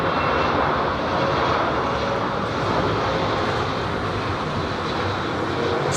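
An airliner sits on the runway at London Heathrow Airport, its engines producing a steady, loud broadband roar that holds throughout without pause.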